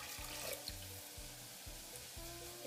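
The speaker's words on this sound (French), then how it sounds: "Voilà, on verse l'eau." Water poured into a cooking pot for a classic risotto, a soft steady splashing stream lasting a few seconds, fairly quiet and without voices.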